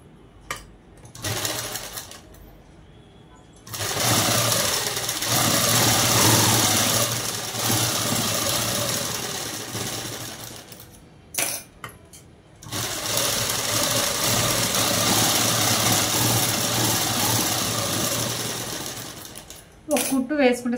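A sewing machine runs in long steady bursts while stitching a prince cut model dress, loud and close, with brief pauses between runs and short handling noises in the gaps.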